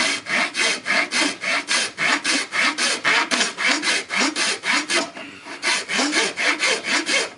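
A coarse rasp files a nock into the tip of an Osage orange selfbow, a steady run of rhythmic, close, loud rasping strokes about four per second with one brief pause near the end, no talking.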